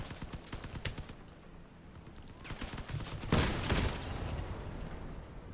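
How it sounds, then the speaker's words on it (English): Missiles and weapons firing in the vehicle combat game Crossout, a dense continuous barrage of bursts with a louder blast swell near the middle, no talking. "Oh no, they got missiles."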